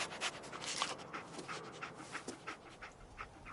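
Dogmeat, the canine companion in Fallout 4, pants in quick rhythmic breaths up close, with faint game ambience behind and no talking.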